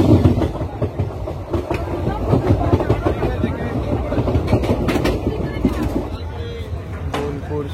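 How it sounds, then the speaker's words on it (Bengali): The 13018 Azimganj–Howrah Ganadevta Express pulls out and gets under way, a steady, loud rolling rumble with rattling carriage noise and clacks throughout, voices mixed in. "সিগন্যাল হয়ে গেছে, ট্রেন ছেড়ে দিচ্ছে"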